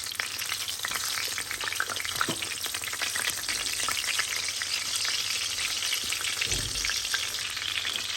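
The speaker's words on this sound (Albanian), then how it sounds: "Tashti pra i pjekëm deri në fund shniclat." Chicken schnitzels frying in a pan, a dense, even sizzle with fine crackling spatter that holds steady and close throughout, with a soft low knock near the end and no talk.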